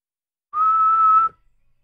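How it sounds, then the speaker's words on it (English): A single sharp whistle blast from an anime episode, clean and steady for under a second, loud and alone against silence. "That's a whistle."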